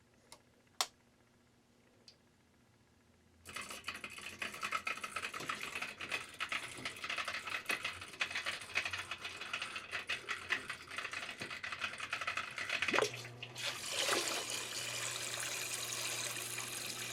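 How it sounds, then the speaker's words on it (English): A homemade workshop heater's water pump starts after a few faint ticks and runs steadily with a broad whirring, watery hum and light ticking, shifting to a brighter hiss near the end. "First thing I'm going to do is test the operation of my pump."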